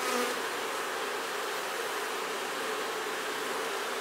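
A dense, steady buzz of many honeybees just smoked at an open hive fills the air, close and unbroken throughout.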